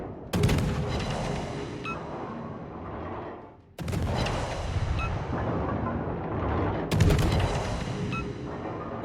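Gunfire rattles in a naval warfare video game, with three loud bursts of rapid shots, each trailing off into rumbling noise before the next volley starts.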